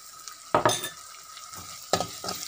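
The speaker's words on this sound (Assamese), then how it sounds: "5 মিনিটমান ভাজি দেখিছেনে ধুনীয়াকৈ মিক্স হৈ কণীখিনি প্ৰায় সিজিছে" Beaten egg mixture fries in a pan over a medium gas flame and is stirred, giving two sharp bursts of sizzling and scraping with quieter frying between them.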